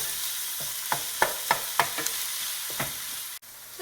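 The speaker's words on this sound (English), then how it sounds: "And now what you want to do with a flat wooden spoon, kind of break down the meat so it's not in large chunks" Ground beef fries in a pan for stuffed peppers while a flat wooden spoon breaks it up, giving a soft sizzle with about half a dozen distinct scraping taps at an uneven rhythm.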